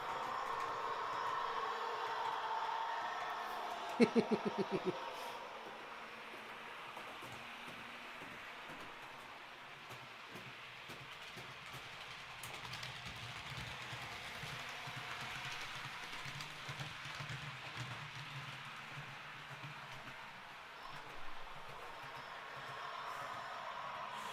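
A model railway train runs steadily at a live layout session, a continuous low rumble with a brief clattering burst early on, then settling into a quieter rolling hum.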